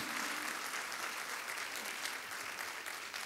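Congregation at a church service applauds steadily, a full and continuous wash of many hands clapping at once, heard from some distance with no pauses and no clear voices over it.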